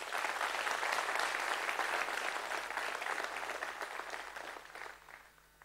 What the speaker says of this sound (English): really giving this entire set who participated a big round of applause